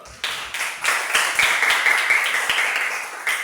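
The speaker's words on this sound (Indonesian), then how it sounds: "Tepuk tangan dulu." A class of pupils claps hands together in a classroom, a dense, close burst of applause that runs steadily for a few seconds with no talk over it.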